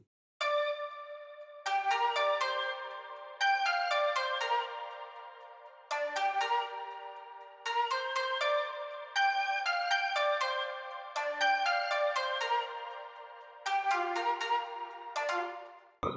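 A synthesizer melody on a Far East ethnic preset plays alone, bright plucked tones in short repeated phrases with sharp attacks and ringing decays, steady and fairly loud.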